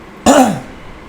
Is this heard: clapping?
no